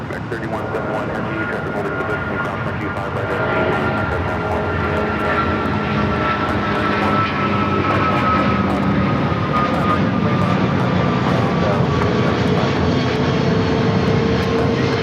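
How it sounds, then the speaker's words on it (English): An American Airlines Boeing 777-200ER takes off from LAX for Dallas–Fort Worth, its jet engines producing a loud, sustained roar with droning tonal whines that swell and hold across the takeoff roll, with talk heard alongside. "This is American Airlines 9785 taking off to Dallas-Fort Worth on the 777-200ER"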